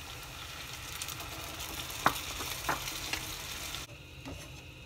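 Two cups of beans go into hot oil with onion for Mexican sopes, setting off a steady sizzle and frying crackle, with a few sharp scrapes and clinks of stirring near the pan.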